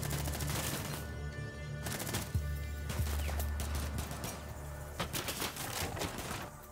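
Rapid gunfire in the game Tom Clancy's Rainbow Six Siege, clusters of sharp shots and bursts scattered across a few seconds over a low rumbling backdrop, fairly faint overall.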